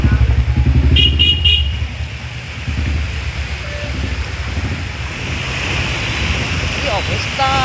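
A vehicle rolls slowly along a flooded road in the rain, with a steady rushing wash of water and wind buffeting the microphone, and an engine rumbling close underneath.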